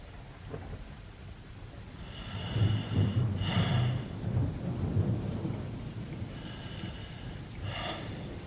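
Pouring rain hisses steadily while deep rolls of thunder rumble through it, swelling twice into louder, drawn-out growls before easing back under the downpour.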